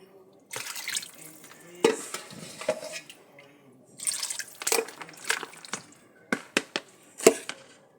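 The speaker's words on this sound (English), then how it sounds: "put as much of our brine in there as we possibly can" Brine poured over chickens in a container, intermittent splashing and dripping bursts with sharp knocks of pots and containers nearby, stopping and starting across the stretch.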